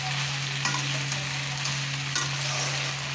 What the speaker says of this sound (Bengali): আর বন্ধুরা আমার পাস্তা কমপ্লিট হয়ে গেছে ভাজা রান্না। দেখতে পাচ্ছেন লাল লাল করে আমি ভেজে নিয়েছি।